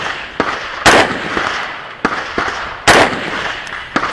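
Gunshots at a two-gun shooting match: several loud, sharp reports in an uneven sequence, two of them especially strong and close, with quieter distant shots between them and echoing decay.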